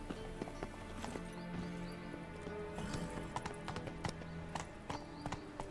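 Geralt's horse Roach in The Witcher 3 gallops with close, rhythmic clip-clopping hoofbeats, a whinny breaking through, all set against layered in-game music and ambience.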